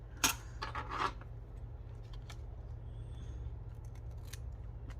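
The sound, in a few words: scissors trimming a Christmas gift tag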